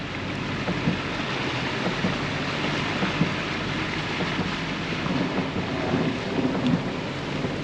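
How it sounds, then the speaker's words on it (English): Heavy monsoon rain pouring at an RV base camp, a dense continuous hiss of downpour on surfaces with faint low rumbles, steady and enveloping throughout. "I do appreciate the rain"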